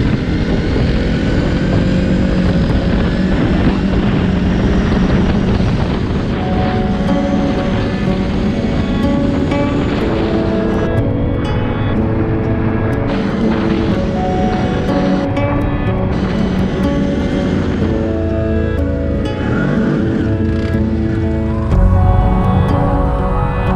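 Engine of a CFMOTO X10 motorcycle heard while riding on the way out to a field, a loud, steady drone with shifting harmonic tones and constant road and wind roar throughout.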